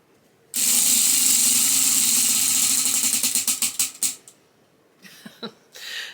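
A prize wheel spins to pick books. It gives a loud, continuous whirring ratchet that breaks into slowing, distinct clicks before stopping after about four seconds, followed by a few soft handling knocks.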